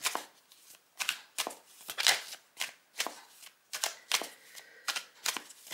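A deck of tarot-style reading cards being shuffled, crisp riffling bursts repeating in an irregular rhythm about a dozen times, close and clear with no talk.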